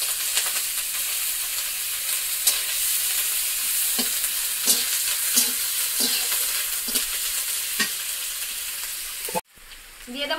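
Chopped onion with garlic and ginger paste frying in a pan, a steady close sizzle with repeated scraping stir strokes, ending in a brief break before the sizzle resumes.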